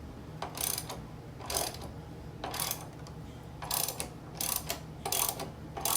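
A ratchet loosens an engine mount bolt on an H22 stroker engine, with quiet bursts of rapid clicking roughly once a second over a low steady hum, close by and without voices.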